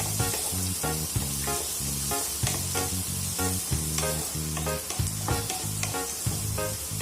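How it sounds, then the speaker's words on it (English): Onions fry in a pan for paneer butter masala, a steady hissing sizzle running beneath louder rhythmic background music. "Fry until it turns light brown."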